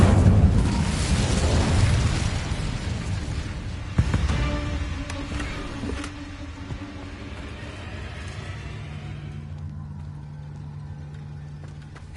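Incendio fire spell cast in Hogwarts Legacy: a loud whooshing burst opens, then a sharp pop and crackling flare a few seconds in, settling into a softer roar with ringing tones.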